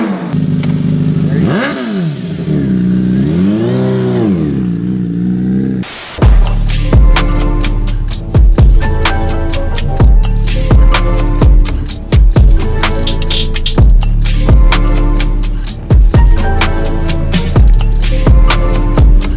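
Turbocharged Kawasaki Ninja H2 motorcycle engine revving up close, loud sharp throttle blips in a rapid repeating rhythm after a brief quieter lead-in, with no talking.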